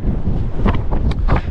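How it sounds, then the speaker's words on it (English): Strong, gusting wind on the summit of Beinn Liath Mhor buffets the microphone with a steady low roar, rising and falling in bursts, loud and close, with no voices. "we're on a very windy summit"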